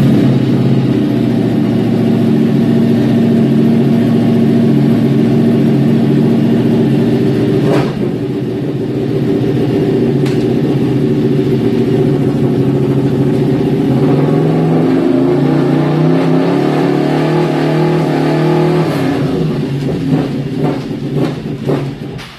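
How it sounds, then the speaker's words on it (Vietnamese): A Ducati Panigale motorcycle engine, loud and close, holds a steady high drone under throttle, with quick clutchless quickshifter upshifts cutting the pitch abruptly, then rising and rapping again toward the end. "Tôi có thể lên số liên tục mà tôi không cần phải xả ga ra hay gì hết, chỉ việc một ga dặn và đá lên thôi"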